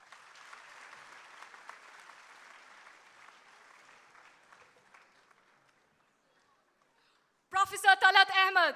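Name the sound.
audience applause for Ashok Reddy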